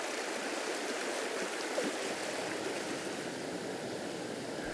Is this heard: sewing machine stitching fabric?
no